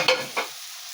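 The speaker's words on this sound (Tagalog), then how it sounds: "Kunting fry lang ito mga guys" Tomato, onion and carrots frying in a pan, two brief bursts of stirring and sizzling early on, then a faint steady hiss that fades toward near quiet.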